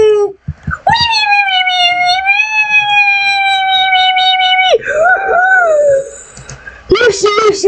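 Cat meowing in Minecraft: a long, drawn-out, loud wailing meow with a rising pitch, followed by shorter falling meows, close and clear with little else around.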